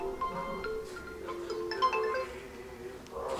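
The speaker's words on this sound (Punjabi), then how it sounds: "ਓਏ ਆ ਕਿਹਦਾ ਆ ਗਿਆ ਫੋਨ" A mobile phone ringtone plays a repeating melodic tune at moderate volume nearby, steady throughout with faint background noise and no talk.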